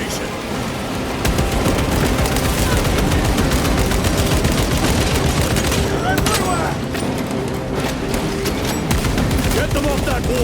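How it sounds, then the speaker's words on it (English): Dense, relentless gunfire in the Warhammer 40,000: Space Marine 2 video game during a battle at a breached northern wall, rapid overlapping bursts and booms filling the scene, loud and close, with voices talking over the din. "Northern wall is breached. Concentrate your fire."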